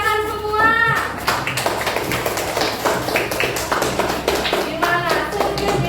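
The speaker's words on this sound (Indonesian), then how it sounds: "buat yang benar kita beri tepuk tangan semua" A classroom of students claps together for classmates who answered correctly, with brisk, rhythmic hand claps close by and a voice heard at the start and near the end.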